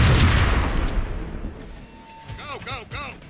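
Gunfire in the video game Max Payne: a loud opening burst of shots and booming impacts that fades, followed by scattered lighter effects, while someone talks over it.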